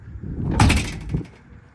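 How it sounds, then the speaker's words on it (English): A 1964 Ford Galaxie 500 car door swings shut with a single loud, solid thump and a short metallic rattle trailing after it, heard up close in an otherwise quiet setting. "listen to the door shut"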